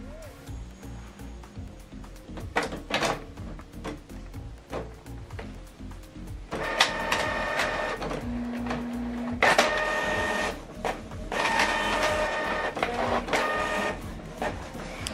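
A Canon Pixma all-in-one printer runs a two-page colour document, with rapid mechanical clicks and whirring that build into louder, sustained feed-and-print passes with brief pauses, close by and without speech.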